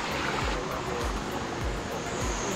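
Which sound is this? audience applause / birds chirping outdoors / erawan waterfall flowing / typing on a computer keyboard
erawan waterfall flowing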